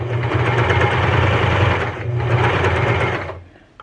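A Janome HD 1000 heavy-duty manual sewing machine running a straight stitch, with a steady, loud mechanical whir in two bursts separated by a brief dip, then stopping.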